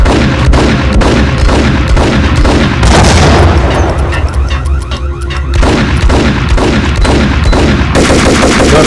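Loud repeated explosions and heavy gunfire roar through a Max Payne game scene, with booming blasts and rapid shots layered densely together and barely a pause over several seconds.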